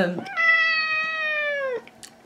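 A house cat meows once, a single drawn-out, clear meow that is close and loud and fades at the end, with faint background noise before and after.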